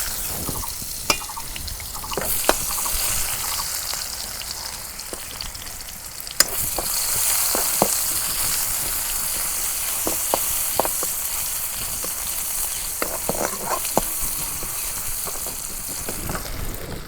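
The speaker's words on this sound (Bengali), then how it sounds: "পেঁয়াজ কুচি দিয়ে দিই, তেল গরম হচ্ছে।" Chopped onion frying in hot oil in a wok, a steady loud sizzle with bright hiss throughout, punctuated by sharp clinks and scrapes of stirring, close and without talk.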